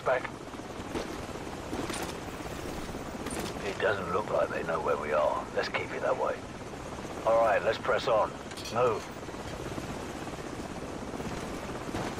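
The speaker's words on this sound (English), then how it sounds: "Watch out for the helicopter!" A helicopter in the Call of Duty 4 video game drones under a speedrun, with loud talk and bursts of game audio layered over the rotor noise.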